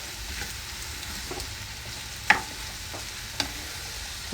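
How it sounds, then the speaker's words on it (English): Chopped peppers are stirred in a hot frying pan, with a low continuous sizzle and two sharp clinks of a utensil against the pan. "I'll put these in here. I'm going to stir it all up."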